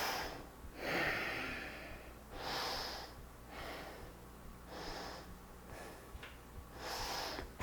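Slow, deep breaths during a yoga twist, a series of soft breathy inhales and exhales close to the microphone, quiet and unhurried with no talk.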